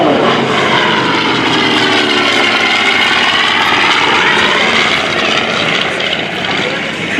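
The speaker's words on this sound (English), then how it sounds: "What a sound, what a sight. Ladies and gentlemen, the Grumman torpedo bomber." A Grumman TBM Avenger torpedo bomber roars past at an airshow, its loud radial-engine propeller drone steady and close throughout, with a slight shift in pitch as it passes.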